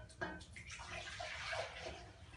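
Purified water from a countertop purifier is poured into containers indoors in a soft, bubbling, splashing stream after a few quick knocks at the start.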